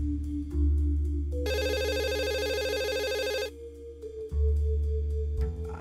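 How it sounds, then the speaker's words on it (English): In the adventure game Dog Mendonca & PizzaBoy, an office telephone rings with one long electronic trill over a low steady tone, clear and close, with no voices. "I should probably pick up that phone."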